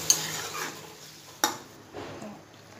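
Marinated chicken frying in a pan over a high flame while being stirred, a steady soft sizzle with sharp clicks of the spoon against the pan, close and fairly quiet.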